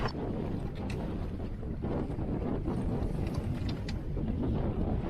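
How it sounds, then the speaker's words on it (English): Wind of over 30 knots roars steadily across a sailboat at anchor off a lee shore, a dense continuous rush with buffeting gusts on the microphone. "Now we're being blown by over 30 knots of wind onto a lee shore."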